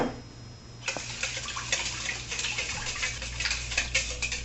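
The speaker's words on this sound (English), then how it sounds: "just going to pour a bunch of cold water. Make sure get that nice stirred up." Cold water poured into a container and stirred, a continuous bright splashing wash after a brief quieter start, with small ticking clinks from the stirring scattered throughout, close and fairly loud.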